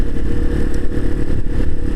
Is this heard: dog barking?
no